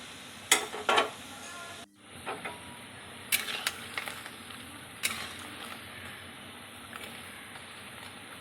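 Pea lentil fritters (motor dal bora) frying in hot oil give a steady soft sizzle, broken by sharp scraping and clinking as a utensil stirs and lifts them from the pan, close and fairly quiet with no talking.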